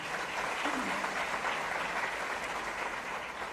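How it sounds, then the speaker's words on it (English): A crowd applauds Sadhguru in a steady, even wash of clapping that holds for several seconds without a break. "Let's give the sadhguru a round of applause, ladies and gentlemen."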